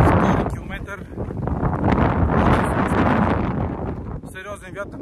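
Strong, continuous wind buffets the microphone on a 1377-metre mountain summit along a hiking trail, a loud roaring rush that swells and gusts throughout while someone talks over it.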